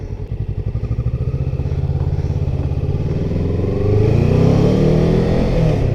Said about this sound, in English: Now I'm on a hill in a motorcycle.